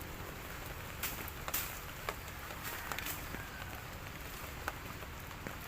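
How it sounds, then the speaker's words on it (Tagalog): Rain falls in a steady, faint outdoor hiss, with scattered sharper drop taps breaking through now and then. "Ulan dito sa amin."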